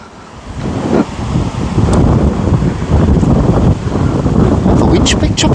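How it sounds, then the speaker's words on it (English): Wind gusts across an open hilltop at Mowden Hill near Sedgley, a steady loud buffeting rush of microphone wind noise that rises and holds. A person talks under the wind. "The wind's picked up a bit. It's blowing all my hair about."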